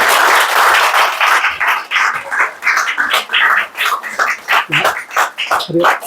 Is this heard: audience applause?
yes